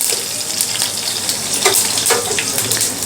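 Green chilies and curry leaves sautéing in hot oil with cumin and mustard seeds, a dense close sizzle with crackles and stirring scrapes, steady throughout.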